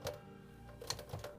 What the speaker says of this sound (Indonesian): Sebuah mesin tik royal dari Stockholm. Ini masih berfungsi sepenuhnya.